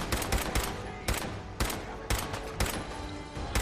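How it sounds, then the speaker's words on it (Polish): Fallout 4 weapon fire while testing guns on live targets: a steady string of loud, close single shots about half a second apart, each with a short rumbling tail, the firing constant across the clip. "Bo ten strzela pojedynczymi."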